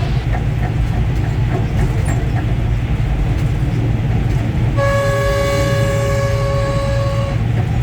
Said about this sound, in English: so they have to blow the horn